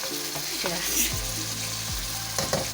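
Potatoes go into a pan of hot oil for an aloo methi dish and fry with a steady, close sizzle, with a few stirring knocks and scrapes over the crackling.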